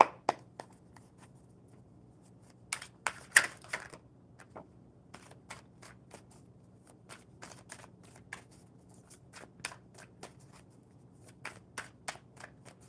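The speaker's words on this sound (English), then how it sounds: "I will shuffle them up" Crisp riffling and snapping bursts of cards being shuffled, clustered around a few seconds, with lighter taps scattered after over a low steady hum.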